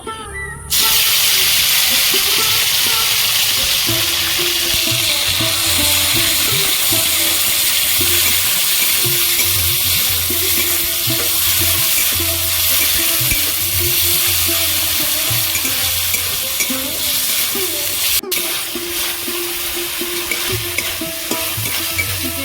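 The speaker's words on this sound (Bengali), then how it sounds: "চিকেনটা ভাজা ভাজা করে নেব" Chicken frying in hot oil in a pan, a loud continuous sizzle and hiss that runs throughout, with scraping and stirring noises over it.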